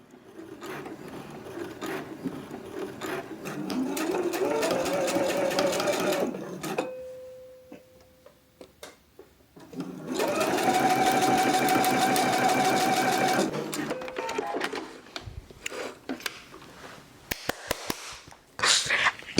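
A sewing machine stitching fabric, running in two long steady bursts of rapid needle clatter with a quiet pause between them, then some short stop-start bursts, all close and loud.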